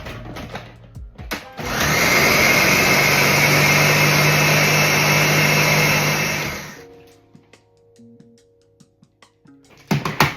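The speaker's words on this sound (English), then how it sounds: "gonna just make this filling in my blender" A loud blender whirs steadily for about five seconds blending pumpkin pie filling with evaporated milk, then spins down, with scattered clatter before and after.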